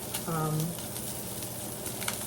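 Tuna steak searing in a hot pan, a steady close sizzle with a brief tonal squeak early on and faint clatter.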